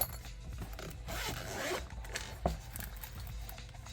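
Standard zipper pouch for a GearWrench 12-piece precision screwdriver set being unzipped, a close, quiet rasping zip with a few soft handling rustles and a small click.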